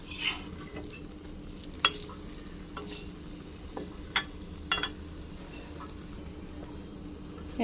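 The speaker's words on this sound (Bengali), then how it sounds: "বড়াটা লাল হয়ে গেছে। এবার উলট পালট করে নেব। আমি অল্প অল্পই ভাজছি কম তেলের মধ্যে।" Palm fritters shallow-frying in a little oil give a steady close sizzle, broken by a few sharp clicks and taps from turning them in the pan.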